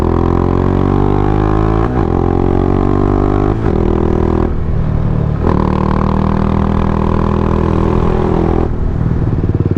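A sport bike rides a rough, punishing mountain road on the way to Ladakh, its engine droning steadily and loud throughout with shifting pitch and occasional clattering jolts from the surface.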